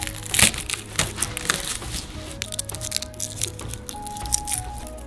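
Peeled garlic cloves are crushed for pizza filling, with a sharp crack near the start followed by scattered crunching and squishing presses, close and moderately loud, with light kitchen clatter and a faint background tone.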